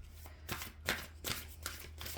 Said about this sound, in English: Pull some oracle cards.